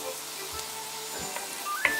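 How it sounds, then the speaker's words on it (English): Beef masala with shallots, coconut slices and curry leaves sautéing in a pan for Kerala beef roast, a soft steady sizzle with a few faint stirring knocks, no talk. "Saute everything well."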